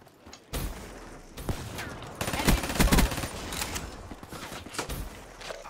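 An HLX gun fires in Black Ops 3 gameplay, loud sustained bursts of rapid automatic fire mixed with other game sounds and a voice talking over the action.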